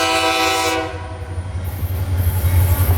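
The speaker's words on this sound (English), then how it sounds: "The first train we see is CSX train" A CSX freight train, A782, passes Vitis Junction, opening with a loud, sustained horn blast that gives way to a steady, close rumble of rolling cars and wheels.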